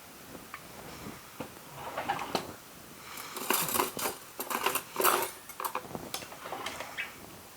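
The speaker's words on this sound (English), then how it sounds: "I'll stir them around a little bit." Pasta shells are stirred in a pot, giving scattered light clicks and taps of a utensil that grow busier and louder in the middle, then thin out again.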